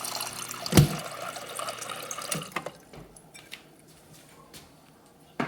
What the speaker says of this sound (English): Has ice and water dispenser